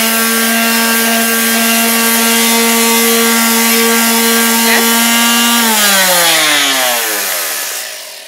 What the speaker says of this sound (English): You lay your sander on there and turn it on.